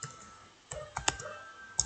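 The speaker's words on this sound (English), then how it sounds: "I'm typing too fast." A few scattered clicks of keys tapped on a computer keyboard, quiet and close, in a short uneven burst.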